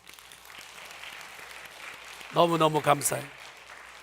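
A church congregation applauds during a Sunday service, a soft, steady patter of clapping in the background. A voice speaks briefly over it near the end.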